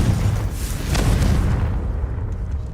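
Confringo blasting spell going off in Hogwarts Legacy, a dense booming burst with a rumbling low roar that swells around the one-second mark and then fades into a steady crackling tail.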